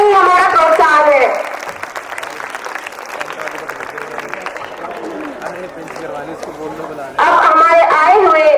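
Audience applause after a performance at a school annual day celebration, loud at the start, settling into steady clapping, then swelling loudly again near the end.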